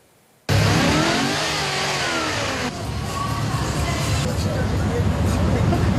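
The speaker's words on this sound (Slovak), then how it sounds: "Námestie zaplavili autá, ktoré bežne na ceste nevídame." About thirty American cars roll into the town square of Prievidza in Slovakia's Horná Nitra region, a loud engine rumble kicking in abruptly and holding under crowd chatter and voices.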